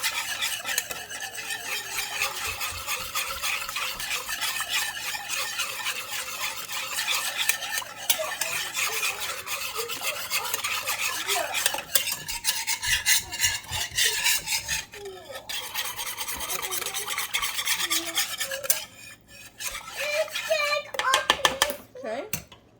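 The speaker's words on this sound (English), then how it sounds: "And then we're just going to whisk this together." A whisk scrapes and clatters rapidly around a bowl as crockpot pork chop sauce is mixed, a busy, continuous rasping rhythm close up, with someone talking over it in places.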